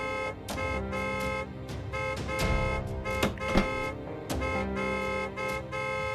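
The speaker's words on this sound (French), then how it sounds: "Arrêtez de klaxonner." Car horns blare in a dense, overlapping chorus, honking continuously with a few sharper blasts poking through the steady din.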